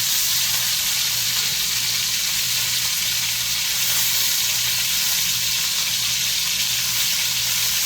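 Chicken legs sizzle steadily in a frying pan, a constant bright crackle and hiss with a faint low repeating hum beneath, close and unbroken with no talking.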